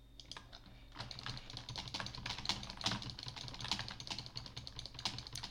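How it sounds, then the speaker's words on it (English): Loud, rapid mouse and keyboard clicking during a Minecraft PvP match, dense irregular clatter running throughout without talk. "Sorry about the clicking"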